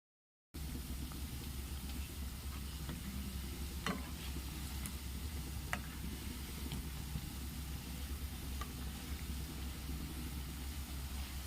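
Pakkavada fritters frying in hot oil, a steady dense sizzle and crackle running evenly throughout, close and continuous, with a couple of faint clinks.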